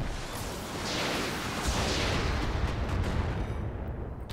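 Gunfire in the video game Roguepoint forms a dense, roaring burst of shots with a whooshing sweep, followed by a few sharper cracks near the end.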